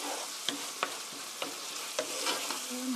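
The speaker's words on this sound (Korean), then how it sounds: "양념이 볶이면 훨씬 맛있으니까요." Seasoned chicken tossed in sauce in a pan, with a steady close sizzle and repeated sharp scrapes of a spatula at an irregular pace, no voices.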